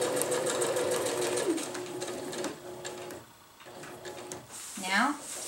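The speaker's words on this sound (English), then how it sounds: "So I'm just going to sew straight to there." Sewing machine stitching seams on a winter tarp, a fast steady chatter for a few seconds that slows and stops, then resumes briefly, heard up close with a person speaking.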